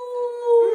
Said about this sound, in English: So yeah, he loves to howl.